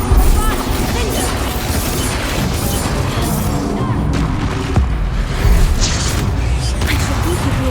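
Repeated spell blasts from Bombarda in the Hogwarts Legacy video game, dense booming crashes piled over continuous game music and effects, loud and unbroken throughout.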